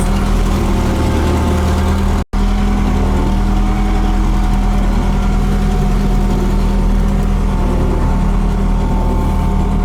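Trackless MT5 snowblower engine running steadily, a loud, close, rough droning hum that continues unbroken apart from one brief dropout.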